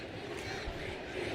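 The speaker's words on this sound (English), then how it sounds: "listen to the crowd" Steady, dense roar of a stadium crowd at an NFL football game between the Indianapolis Colts and New England Patriots, a continuous wash of massed voices swelling slightly near the end with no distinct talk on top.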